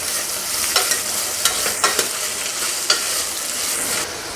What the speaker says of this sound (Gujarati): બટેટા, ડુંગળી, ગાજર, દૂધી અને કેપ્સિકમ બધા વેજીટેબલ પણ વઘાર સાથે સરસ સાંતળી લેશું।